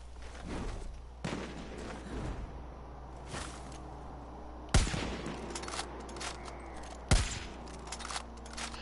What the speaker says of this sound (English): gunshots in the woods, you never really know where they're coming from. They just echo all over the place.